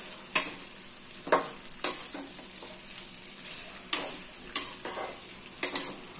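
Mixed vegetables for fried rice fry in a pan with a steady sizzle, punctuated by roughly eight sharp clacks of a spatula stirring against the metal at irregular intervals.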